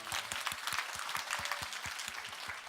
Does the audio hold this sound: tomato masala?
no